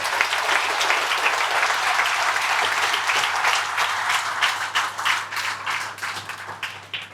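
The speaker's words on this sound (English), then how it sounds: "the sales team and the leasing team deserve a massive round of applause. So give a clap for each other" A room of company staff at a monthly meeting applauds the sales and leasing teams, a dense, steady burst of many hands clapping that stays loud for several seconds, then thins into scattered claps near the end.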